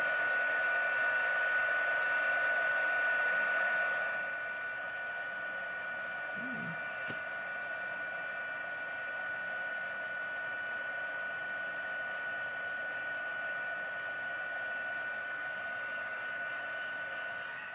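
A small heat tool blows hot air onto a Valentine's Day card, a steady close whooshing roar that drops in level partway through and then holds evenly.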